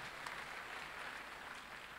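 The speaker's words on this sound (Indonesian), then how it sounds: "Yang setuju beri tepuk tangan kemuliaan dulu buat Tuhan." A church congregation applauds together, a steady wash of clapping filling the room for about two seconds at moderate distance, with no voices standing out.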